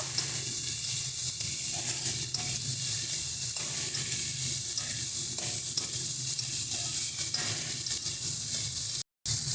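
Steady loud sizzling of flat beans and potatoes frying with onion in hot oil, with occasional stirring scrapes, continuous and close.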